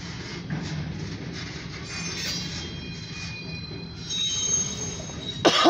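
A slow grain hopper freight train of striped hopper cars rolls past nearby, its wheels squealing continuously against the rails over a steady rumble, with a sharp screech near the end.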